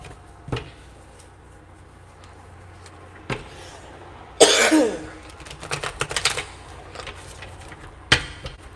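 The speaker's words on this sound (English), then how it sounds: "You have to excuse the coughing and stuff." A sick man coughing alone indoors: a few sharp isolated coughs spaced seconds apart, then a louder burst of hacking and throat clearing in the middle, followed by one final cough.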